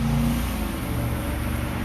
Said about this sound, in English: There's going to be lots of traffic going by